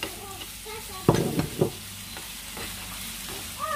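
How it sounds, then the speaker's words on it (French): Diced onion and finely chopped red pepper sizzling in a frying pan, with a couple of louder stirring scrapes over a steady soft hiss, close by. "Je vais vraiment laisser cuire le tout tranquillou, à feu doux."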